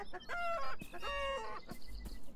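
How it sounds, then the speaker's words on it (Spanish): Chickens clucking and squawking in the video game Beyond Eyes, several birds calling in quick harmonic bursts, fairly close and alone without talk. "escuchamos un montonazo de gallinas"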